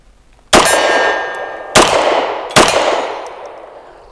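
Three shots from a BUL Armory EDC pistol each strike a steel target, sharp loud clangs ringing out and decaying over about a second, spaced unevenly, with no voices.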